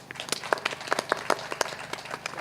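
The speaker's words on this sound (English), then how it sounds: "Please, a round of applause." Sparse, uneven clapping from a summit audience follows a minister's remarks, individual claps standing out rather than a full ovation.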